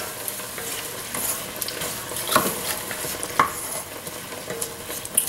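Petite diced tomatoes from a 14-ounce can are stirred into a pot of chili with beans on medium-high heat; a soft, steady sizzle runs underneath with occasional louder scraping stirs, moderately close.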